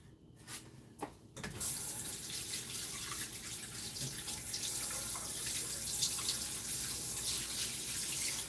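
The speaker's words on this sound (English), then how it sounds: "I'm just washing the cutting board right now" A cutting board is rinsed under a running kitchen tap, a steady close wash of water that starts after a few brief knocks and continues without pause.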